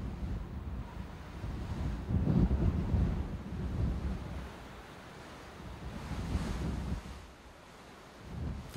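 Trade winds blowing over the open Pacific, with waves and surf rolling in gusts that swell and ebb, a steady rushing roar with wind buffeting the microphone.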